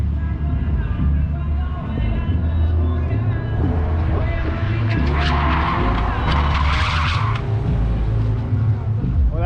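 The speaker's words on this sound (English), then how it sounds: "we're at night watching these guys drift" Cars drifting at night at a noise and motor festival, with long skidding tire squeals and engine roar echoing from a distance over a constant crowd murmur and voices.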